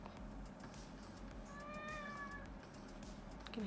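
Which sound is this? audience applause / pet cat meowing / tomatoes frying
pet cat meowing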